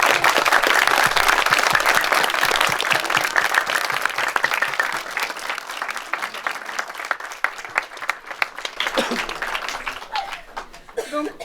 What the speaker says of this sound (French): en vous demandant d'applaudir très fort ces jeunes et tous ceux qui nous ont aidés